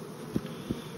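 Honeybees drone around an open beehive during a linden honey flow, a low, steady hum close by, broken by a couple of soft knocks.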